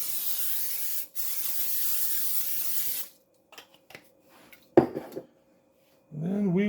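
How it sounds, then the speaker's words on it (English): A long hissing spray of nonstick cooking spray onto a baking dish, a brief pause, then more spraying, followed by quiet clinks and handling sounds. "Give it a good spray down with your nonstick."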